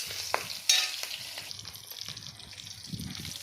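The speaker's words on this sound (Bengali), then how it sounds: "তারপর আমি দিয়ে দিলাম দুটো তেজপাতা আর 2 টুকরা কাঁচা লঙ্কা।" Bay leaves and green chilies sizzle and crackle in hot oil in a wok, a steady close frying hiss with a few sharp pops near the start and light stirring, and no voices.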